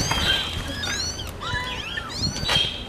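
A tiny kitten gives several thin, high meows in quick succession, close by and fairly soft, with faint background noise and no clear talking.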